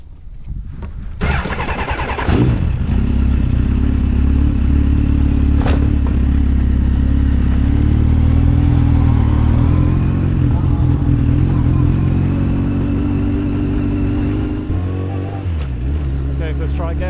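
A motorcycle fitted with new Pirelli Angel GT tyres starts up close by, then its engine holds a loud, steady, rumbling run for the rest of the stretch, easing slightly near the end.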